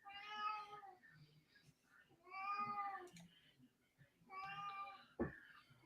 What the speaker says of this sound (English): Your cat's upset